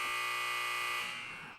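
A single steady electronic buzzer tone, loud and sustained, holds for over a second before starting to fade, with nothing else around it.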